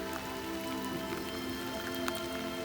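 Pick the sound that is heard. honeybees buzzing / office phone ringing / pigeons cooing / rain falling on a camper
rain falling on a camper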